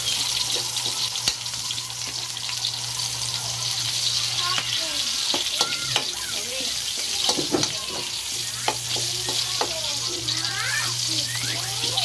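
Onions and garlic sautéing in a pan for pork humba, a continuous close hiss and sizzle with scattered spatula scrapes and a low hum that drops out midway.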